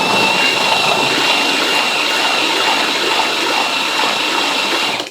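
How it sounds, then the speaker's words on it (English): Lime putty being mixed with water for a lime wash gives a steady, loud wet churning and sloshing that runs without a break and then stops abruptly at the end. "Just mixing up some now. It's just straight lime putty and water."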